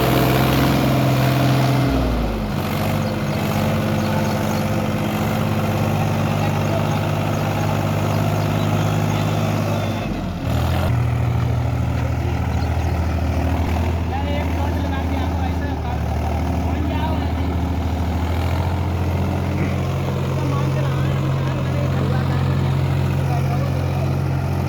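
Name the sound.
tractor engine straining, wheels slipping while climbing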